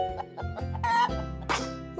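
A hen clucks in a series of short, close, fairly loud calls over two seconds, with a sharper squawk toward the end and no talking.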